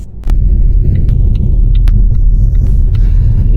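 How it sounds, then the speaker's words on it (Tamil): A car drives through Stockholm streets, its steady low engine and road rumble heard from inside or nearby, with a few brief higher clicks and taps over the continuous drone. "ஸ்டாக்கம் தெருக்களில் வண்டி ஓட்டுறது எவ்வளோ இக்கட்டான விஷயங்கிறத பார்ப்போம்"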